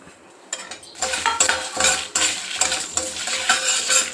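Broken dried red chilies and cumin fry in a pan, heard as close metallic scraping and stirring clatter from a spoon against the pan over a light sizzle, in irregular bursts.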